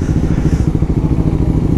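A motorbike being ridden fast by a rider without gloves on a cold day, its engine giving a close, rough, pulsing rumble with clattering texture throughout.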